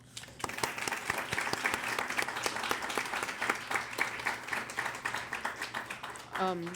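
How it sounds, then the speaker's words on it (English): Audience applause for judge candidates at the end of a candidate forum, a sustained round of many people clapping, moderately loud and continuous, with a voice starting up at the very end. "we will give them one final round of applause"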